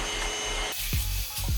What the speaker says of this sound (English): I'm just going to like vacuum the walkway to really have a feel of how is it gonna be like.